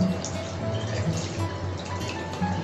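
Water running steadily from a faucet while hands are wetted during handwashing for caregiving, a continuous close hiss with light splashing throughout.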